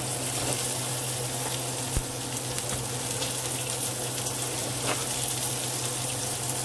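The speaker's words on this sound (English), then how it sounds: "drop of oil and let them get crispy." Food frying in a drop of oil until crispy makes a steady, close sizzle with a constant low hum behind it and a few faint clinks.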